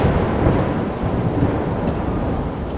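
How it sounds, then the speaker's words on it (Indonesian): Heavy rain pours down steadily under a deep, continuous rumble of thunder on a stormy night, dense and loud throughout with no pauses. "Hujan turun deras, dan petir menyambar di langit malam."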